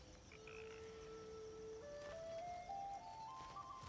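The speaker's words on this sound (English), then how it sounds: "I got a frog here. Nice frog." A frog croaks in God of War Ragnarök, a soft, steady call sitting low beneath a sustained rising electronic tone in an ambient outdoor game scene, with no talking.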